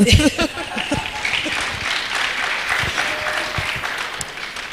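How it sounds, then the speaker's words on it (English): Clapping from an audience at a teachers' certificate award ceremony, a steady soft wash after a few spoken syllables at the start, with light murmuring throughout. "You need to clap."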